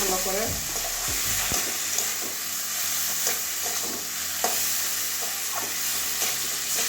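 Mushroom and soybean curry being sautéed in a pan, with a steady frying sizzle and repeated scraping stirs of a spatula up close, and a brief spoken phrase in the middle.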